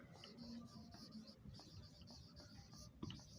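A marker or chalk scratches and squeaks across a board in short quiet strokes with small pauses between them, faint and close in a quiet room.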